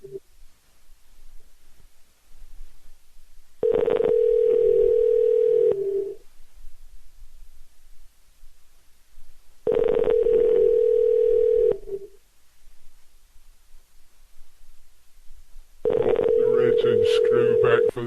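A telephone dial tone sounds three times in long, steady bursts separated by silence, the last one mixed with quick dialing beeps. The sound is close and clear.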